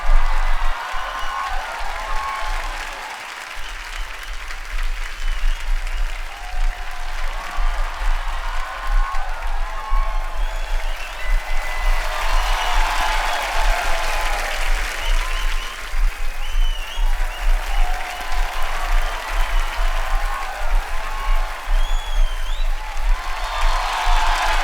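A studio audience for a Kapil Sharma Show comedy episode claps loudly and steadily, with scattered whoops, welcoming actress Raveena to the stage; the applause rolls on continuously throughout.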